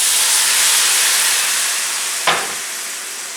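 Vegetable stock mixed with dry Pinot Grigio white wine hits a hot vegetable paella pan, making a loud, sustained sizzling hiss that eases gradually, broken near the end by a single sharp knock.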